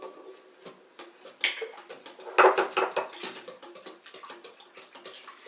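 A spoon clinks and scrapes rhythmically against a bowl while cracked eggs are stirred into challah dough, with close, irregular taps building louder midway.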